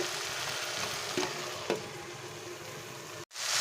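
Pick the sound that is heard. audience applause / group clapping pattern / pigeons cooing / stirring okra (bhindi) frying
stirring okra (bhindi) frying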